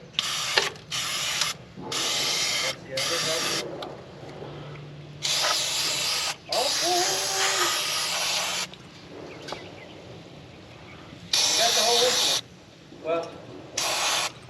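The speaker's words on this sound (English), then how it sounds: "you're gonna spray it in there" Bursts of aerosol spray from a can of Fluid Film rust-protective lubricant being sprayed into the metal of a burnt Mercury Comet GT, several hissing blasts of varying length separated by short pauses, close and fairly loud.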